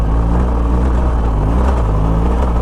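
A BMW R1200 GSA motorcycle engine holds a loud, steady, close-up drone under constant throttle while climbing a rocky hill, with continuous rumble and no pauses.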